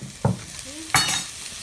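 Food frying in a pan while making a pear, blue cheese and walnut risotto, with two sharp bursts of sizzle and stirring over a steady low hiss, close by; no talking.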